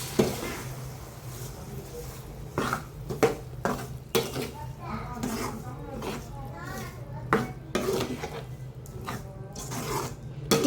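Ground tomato being stirred in a pan for Tamil garlic kuzhambu, with repeated scraping and clinking of a spoon against the pan over a steady low kitchen hum, alongside bursts of nearby activity.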